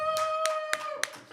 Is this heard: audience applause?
yes